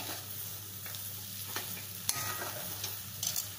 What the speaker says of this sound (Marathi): हे काजू आणि बेदाणे ना, हे घालते याच्यामध्ये। मिसळून घ्यायचे व्यवस्थित